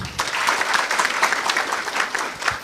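Short burst of audience clapping at a national border management conference, a moderately loud, even patter of many hands lasting under three seconds.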